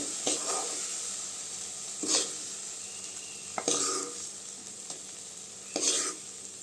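Tomatoes for a Tamil-style tomato chutney sautéing in a pan, a steady soft sizzle broken by four distinct scraping stirs of a spoon spaced a second or two apart, with no talking.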